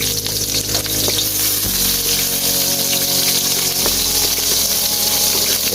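Ginger sautés in a hot pan with a dense, loud, continuous sizzle and occasional stirring scrapes, close up and without voices.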